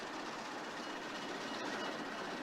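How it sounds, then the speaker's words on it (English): Conway Scenic diesel locomotive 1055 runs around its train at North Conway station, giving a steady, moderately distant rumble and rolling noise with no break. "1055 runs around the train for another scheduled departure in front of the magnificent North Conway Railroad Station"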